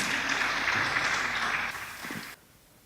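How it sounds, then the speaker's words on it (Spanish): An audience claps for a speaker being introduced at a talk, a dense, steady round of applause that thins out and stops abruptly near the end. "a Rodrigo Torres, un aplauso para él"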